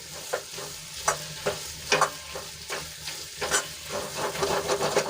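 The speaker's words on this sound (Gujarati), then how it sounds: "આપણી તુવેર સરસ રીતે સંતળાઈ ગઈ છે" Pigeon peas sizzle gently in a pan while a spoon scrapes and stirs in irregular strokes, close by with no talking.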